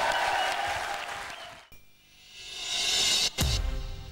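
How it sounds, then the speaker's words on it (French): Studio audience applause on a French television talk show, dense clapping that fades into a quieter stretch midway, then swells again before a short break. "je vous prie de vous joindre à moi pour applaudir le talentueux, le fabuleux, le vigoureux"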